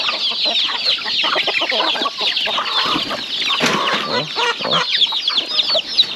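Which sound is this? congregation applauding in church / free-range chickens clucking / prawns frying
free-range chickens clucking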